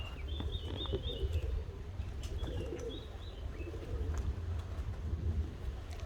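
Pigeons, white and other kinds, coo softly in a park enclosure in Switzerland, with low murmuring calls and a few higher chirps over a steady outdoor rumble.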